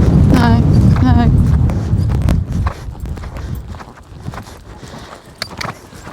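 Horse hooves clip-clop at a steady gait during a riding lesson over jumps, with an instructor's voice talking over the footfalls at first before the hoofbeats continue more quietly.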